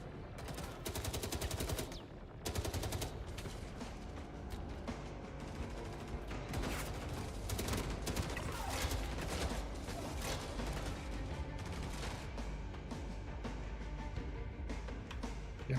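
Sustained video-game gunfire from weapons testing downstairs, dense automatic bursts and rapid shots rattling on without pause, loud and continuous, with no one talking.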